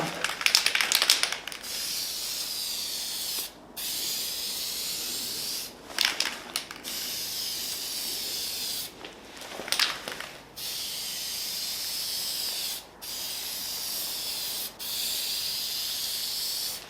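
Copper spray paint hisses from an aerosol can onto an engine valve cover in several steady bursts of a few seconds each, separated by short pauses and brief clattering handling noises.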